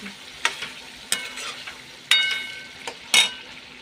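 Vegetable curry of small beans frying in oil in a home kitchen, a steady soft sizzle broken by several sharp clinks and scrapes of a utensil stirring the pan.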